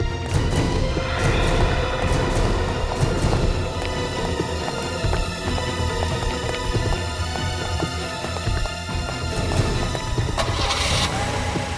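Cars rev and pull away in a dense, loud, continuous engine rumble over a busy background, with no speech.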